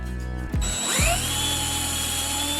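Power drill fitted with a rivet-sleeve depth stop bores into a wooden board, the motor whining up to speed with a sharp pitch sweep, then running steady and loud close by.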